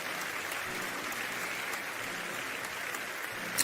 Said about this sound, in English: That should get a round of applause right there.